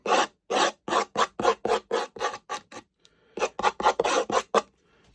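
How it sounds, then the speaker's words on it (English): An old blade is dragged repeatedly across the plastic surface of an Airfix 1/35 Austin K2/Y Katy ambulance kit, giving a dry, rhythmic rasping of about a dozen close strokes, with a brief pause midway and no talk. "give it a good old going over with an old blade or something, just to roughen up the surface"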